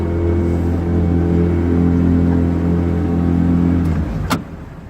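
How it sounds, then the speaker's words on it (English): An 18-foot Jetcraft boat's high-thrust outboard motor idles and revs in a steady, loud, sustained drone with strong harmonic hum, dropping off near the end with a brief click and rattle. "Then what I do is go up a little bit more on the RPMs, it took it."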